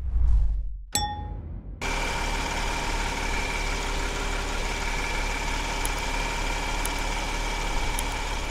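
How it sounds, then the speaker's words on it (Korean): A 2018 Genesis EQ900 turbo engine idles quietly and evenly after a brief chime near the start, a smooth, steady hum held close with no talking. "자, 엔진 소리 들어보셨죠?"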